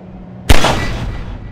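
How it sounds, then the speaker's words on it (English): A single loud, close blast from the Magnusson device on a Strider in Half-Life 2 Episode Two, with a sharp impact and a rumbling tail that fades slowly over about a second. "take out the firearm of your choice and shoot the device"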